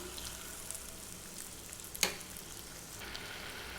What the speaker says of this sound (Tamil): எண்ணெய் நல்லா காஞ்சதும் குட்டி குட்டி போண்டாகலாம் போட்டுக்கோங்க